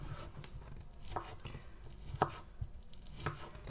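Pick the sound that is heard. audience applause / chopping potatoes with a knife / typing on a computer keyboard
chopping potatoes with a knife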